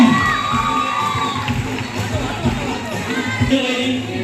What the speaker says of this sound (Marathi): जोरदार टाळ्या अभिनंदन